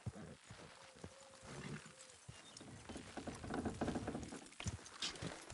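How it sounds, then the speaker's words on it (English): Horses in the video game Red Dead Redemption II strain and clop as they pull, with faint hoof patter and scuffing under a quiet, cluttered background. "Horses will pull it clean down."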